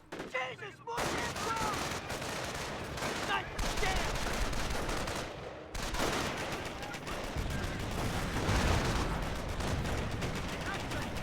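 Gunfire in the Company of Heroes 1 strategy game: a dense, continuous battle din of rifle shots and machine-gun bursts, with two short near-silent breaks before the fighting resumes.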